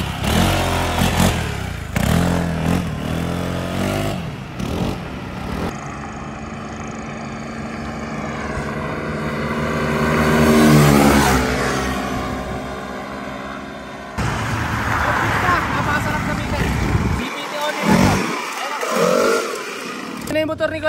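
A Yamaha XMAX 300 scooter with a fully set-up CVT revs hard during a test. The engine rises and falls in loud, close bursts, with a long climbing rev in the middle, while people talk over it.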